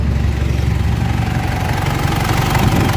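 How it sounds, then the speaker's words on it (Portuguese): A Mitsubishi L200 Triton 3.2 diesel engine idles after a timing chain repair, giving a steady, close, low rumbling drone with an even mechanical clatter and no other sounds. "Vê o barulho do motor."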